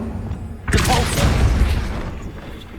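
A Depulso force spell cast in the Hogwarts Legacy video game, a sudden loud booming burst that rolls into a rumbling, whooshing decay over two seconds.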